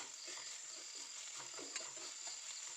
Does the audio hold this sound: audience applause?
no